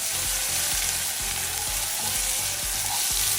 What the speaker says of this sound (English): you can add half of the yellow onion, and you want to saute this until it's translucent